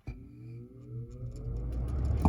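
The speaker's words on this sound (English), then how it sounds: "Alright, here's startup sound on a high for this fan." Electric fan with swapped blades, a K-223 combined with a 3723S, starting up on high, giving a steady low motor hum with rising tones that climb and build in loudness over a couple of seconds.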